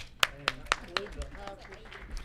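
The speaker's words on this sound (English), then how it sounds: "Let's give Justin a big round of applause." A few scattered hand claps greet Justin Chilcutt as he arrives at a casual gathering. Four or five sharp, separate claps come close together, then fade into quieter room noise with no steady applause building.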